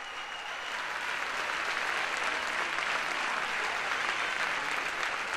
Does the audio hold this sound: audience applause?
yes